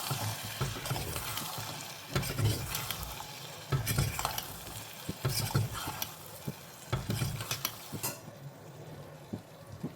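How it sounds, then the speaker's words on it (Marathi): A spoon stirs and scrapes through peas and mutton sizzling in a pressure cooker, with rhythmic scraping strokes over a steady close frying hiss, and no talking. "आता ह्यामध्ये घालूया मटर. आता हे सर्व आपण घाटून घेऊया."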